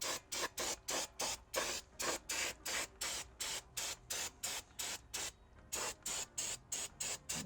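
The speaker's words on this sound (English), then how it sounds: "clean up everything with some brake clean" Brake cleaner is sprayed on car brake parts in rapid, regular short bursts, about a dozen evenly spaced hisses with a brief pause midway, close and fairly quiet, with no speech.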